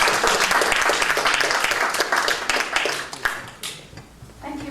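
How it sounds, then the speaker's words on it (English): A round of applause from an audience at a literary conversation event, loud and dense at first, then thinning into scattered claps and fading out near the end. "Let's have a round of applause for that evening."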